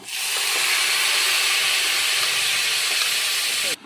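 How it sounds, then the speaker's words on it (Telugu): Lentils tipped into hot oil with curry leaves for dried-gongura dal give a loud, steady sizzling hiss that runs unbroken for several seconds before cutting off abruptly near the end. "ఇప్పుడు ఇందులోకి మనము కరివేపాకు వేసుకుందాము తర్వాత కాగింది ఇందులోకి పప్పును మనము వేసుకుందాము"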